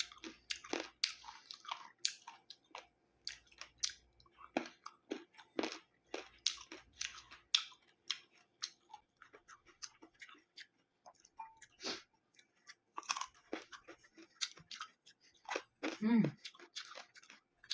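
Close, crisp chewing of unripe green mango, with repeated crunchy bites and wet mastication at an irregular pace, quiet but intimate, with pauses between mouthfuls.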